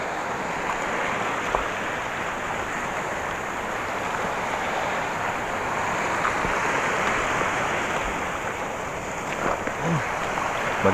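Rough sea waves wash steadily around a fishing spot at a fishing rack, a continuous broad surf and water rush with wind, loud and near throughout.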